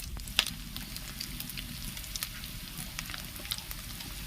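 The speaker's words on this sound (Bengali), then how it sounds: "এটা ভালো করে ভেজে নিতে হবে তাহলে আদা রসুনের যে গন্ধটা সে গন্ধটা থাকবে না" Ginger-garlic paste with turmeric sizzles steadily in a hot pan, a continuous crackling fry with occasional sharper spits and pops, close and moderately loud with no talking.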